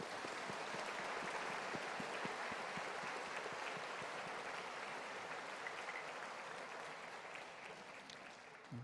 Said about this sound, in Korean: 축하의 박수 주시기 바랍니다